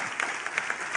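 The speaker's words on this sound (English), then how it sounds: "Yes, you can clap for him." Brief burst of audience applause at a Nigerian public address, a dense patter of hand claps from a crowd at moderate distance, with no talk over it.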